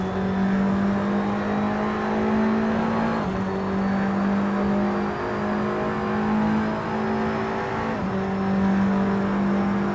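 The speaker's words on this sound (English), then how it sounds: "Dylan O'Keefe and Ben Barguana go through, heading down the hill into Dandenong Road corner" TCR touring cars race in a sim racing game at Sandown Raceway, a loud, constant engine wail from the driven car climbing through gears with two clear shift drops, other engines faint behind it.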